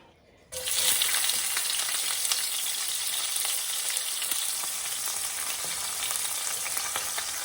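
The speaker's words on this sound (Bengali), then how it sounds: "একটু রংপুর স্টাইলের শাক ভাজি করব" Rangpur-style greens with onion, garlic and shrimp hit hot oil with a sudden loud sizzle that settles into a steady, dense frying hiss, close and continuous, with no voices.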